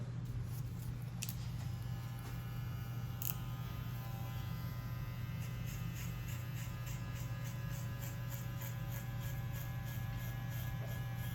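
A TPOB Play Mini hair clipper fitted with a magnetic 1.5 guard, lever open, buzzes steadily and close up as it cuts through bulk hair, with a few faint snips on top of the constant motor hum.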